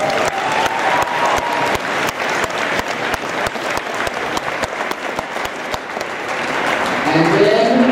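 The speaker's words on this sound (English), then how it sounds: "Let's give them a round of applause" A high school gathering claps for visiting Rotary Club members, with a full round of steady applause and a few sharp nearby claps, fading as a voice begins speaking near the end.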